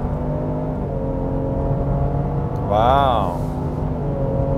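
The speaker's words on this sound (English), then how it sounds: "So this 3-liter twin turbo V6 really makes" A Lincoln Aviator's 3-liter twin-turbo V6 hums steadily, then swells into a rising rev as the SUV accelerates, heard from inside the cabin with a brief spoken exclamation over it.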